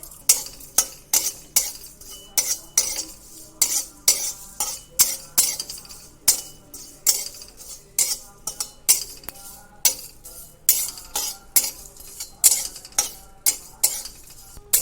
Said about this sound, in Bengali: শুকনো লঙ্কাটা একটু ছিঁড়ে দিচ্ছি, তাড়াতাড়ি ভাজা হয়ে যাবে